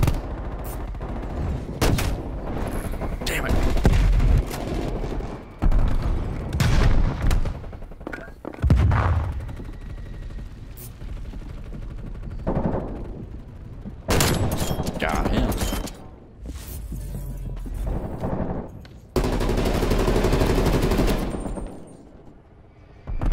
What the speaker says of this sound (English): I'm shooting everybody.